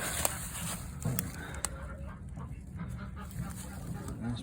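Chickens clucking in a coop near a raccoon trapline: soft, scattered clucks and fowl calls under a steady, noisy background, with a few brief sharper notes.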